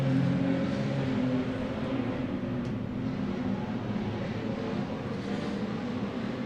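Street stock race cars roar around the dirt oval at Borderline Speedway, Mount Gambier, during a final, a steady dense engine drone at middle distance with no clear passes standing out.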